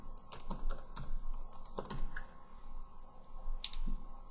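Fingers type on a computer keyboard in quick bursts of close key clicks with brief pauses between runs.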